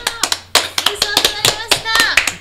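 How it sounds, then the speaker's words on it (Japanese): Sparse, uneven clapping from a small group of players and staff at a Japanese mahjong league tournament in Kansai, greeting the winner; distinct individual claps ring out close by for a couple of seconds with a voice speaking over them. "バラバラバラバラ 拍手してあげてください"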